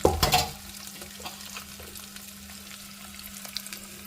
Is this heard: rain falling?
no